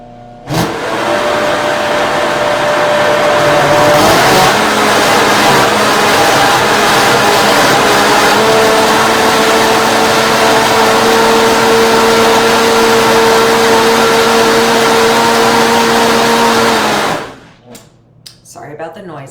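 A blender purees pumpkin mousse, running loud and steady for about seventeen seconds, its motor whine holding a constant pitch, then cuts off abruptly into near silence.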